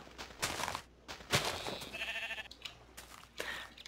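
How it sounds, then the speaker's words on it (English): Several bleats from a sheep in a blocky survival video game come close and clear, with a few separate calls and short gaps between them and no talk over them. "Stupid sheep."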